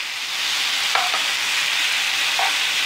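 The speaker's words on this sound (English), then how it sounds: "Smell the sizzle, all coming along beautifully." Steak, onions and mushrooms sizzle steadily in a hot frying pan, a constant close hiss with a few faint clinks of stirring and no talking.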